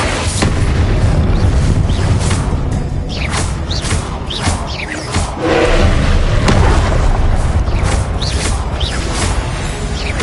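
Loud, dense Confringo blasting-spell explosions in the wizarding game Hogwarts Legacy, bursting in rapid succession over a constant roaring rumble of combat.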